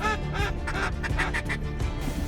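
Ducks on warm-water springs during a cold-weather waterfowl hunt in Montana give loud, close, overlapping quacks in a steady, busy stream.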